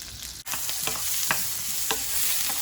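Butter melts and sizzles in a pan, ready for carrots to go in, a close, steady frying hiss with soft stirring scrapes repeating every half second or so and no talking.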